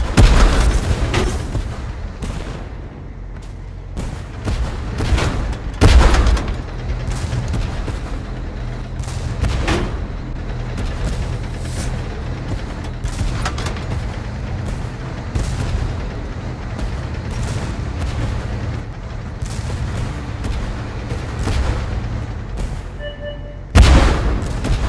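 Tank cannon fire and explosions in the game Tank Force, heavy booms landing every few seconds amid scattered distant gunshots and a rumbling battlefield backdrop.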